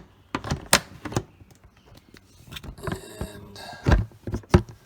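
The plastic cover on a Samsung dishwasher is pressed onto its little tabs, giving a series of sharp, close clicks and snaps at an irregular rhythm, with one brief spoken word.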